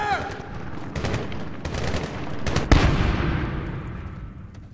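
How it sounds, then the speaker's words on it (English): Automatic AK rifle fire in the 2010 Medal of Honor war game, with several sharp bursts of shots and a heavier blast, dense battle noise throughout and voices under the shooting. "That is an AK fire."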